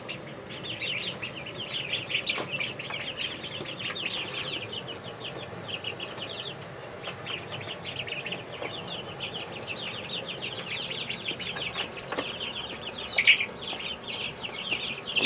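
Rhode Island Red chickens cluck and chirp continuously inside a brooder, with a steady chorus of close, mid-level calls and occasional rustling and wing flaps.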